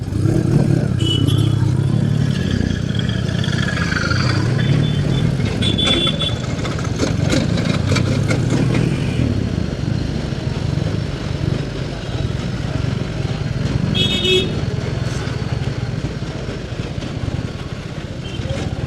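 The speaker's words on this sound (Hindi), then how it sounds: "ट्रैफिक" Steady road traffic on a hill-town street near Mandi, Himachal Pradesh, with passing engines, motorcycles and occasional clatter forming a continuous, moderately loud wash, heard from a two-wheeler.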